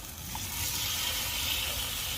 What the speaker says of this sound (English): That sizzle, that sear action.